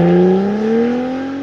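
A 2020 Cadillac CT5-V on launch control, a loud steady engine drone held close by, its pitch climbing smoothly as revs build and then level off.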